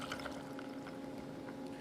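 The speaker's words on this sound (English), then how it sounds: "Just pour your Diet Coke right in as well." Diet Coke poured from a container into a glass of spiced rum, a steady close liquid stream with soft fizzing and trickling.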